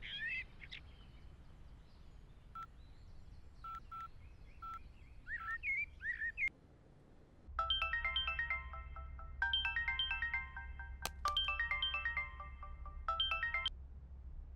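A mobile phone ringtone plays in three melodic bursts separated by short gaps, clear and fairly close over a low steady hum, after some fainter chirpy electronic tones.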